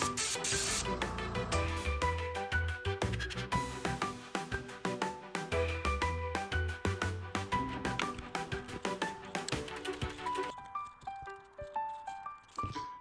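Slate gray base coat spray-painted onto a Revell Me 262 1:48 model kit, a steady hiss running about ten seconds with quick pulsing bursts, then tapering into quieter short sprays near the end.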